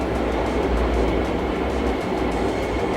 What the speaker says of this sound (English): There's a train outside my window and all my windows are open